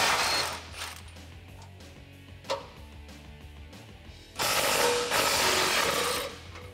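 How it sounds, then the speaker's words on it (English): An 18mm socket on a ratchet working bumper bolts loose on a Jeep Wrangler JK 4-door, giving close, rasping ratchet clicks in short runs, then a long, loud continuous stretch of rapid ratcheting. "Using your 18mm socket, remove these two bolts holding on your bumper."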